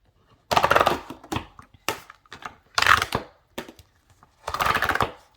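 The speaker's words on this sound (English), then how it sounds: "I'm actually taking off the rings." The metal rings of a planner binder are pried open up close, giving a few loud, bursty clattering snaps and rustles separated by short pauses, with no talking.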